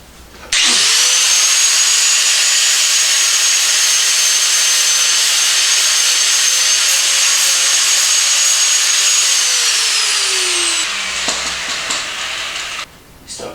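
A grinder runs steadily and loudly for about ten seconds with a high whine, then spins down, during work on a drop-seat Kawasaki bobber build.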